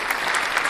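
A short applause sound effect played during a livestream donation shoutout: less than a second of dense, even clapping at steady volume.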